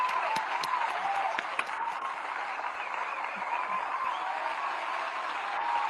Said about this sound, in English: clapping sounds for me.